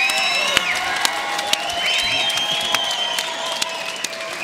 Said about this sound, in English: let's have a nice round of applause for both brawlers